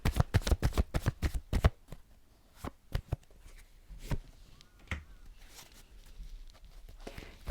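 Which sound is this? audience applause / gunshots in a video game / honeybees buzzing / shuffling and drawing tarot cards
shuffling and drawing tarot cards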